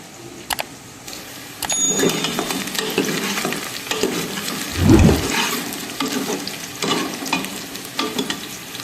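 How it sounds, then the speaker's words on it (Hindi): Onions frying toward golden brown in a home kitchen pan in Pakistan: a loud, steady sizzle with stirring scrapes throughout, swelling briefly midway, with no talking. "तो प्याज मैंने ऐड कर दी है, इनको गोल्डन ब्राउन में फ्राई करूँगी।"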